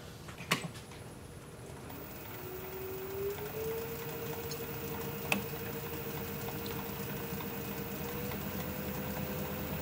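A wood lathe spins a bowl made from junk wood at about 600 RPM while the tenon is turned off, a steady faint motor hum with a rising whine and a few brief knocks.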